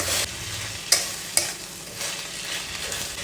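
Green chillies, tomatoes and mint stirred and fried in a wok: a dense sizzle with two sharp scrapes of the utensil against the metal, then a steady frying hiss that continues to the end.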